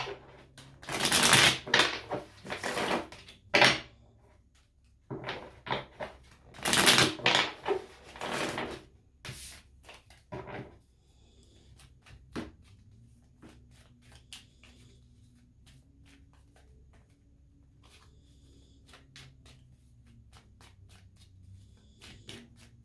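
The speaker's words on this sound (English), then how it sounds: "Let me shuffle these a little bit better." Crisp riffling and slapping of tarot cards being shuffled in quick bursts, close by, followed by quieter soft handling and a low hum.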